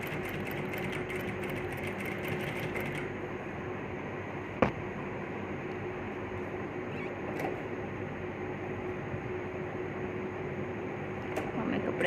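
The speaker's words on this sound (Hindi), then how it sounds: "ये जो हमने सिलाई लगाई हम इसके ऊपर ऊपर ही सिलाई लगाएंगे" A sewing machine stitches a two-piece collar in a steady, fairly quiet whir that runs nearly the whole time, with a brief sharp click partway through.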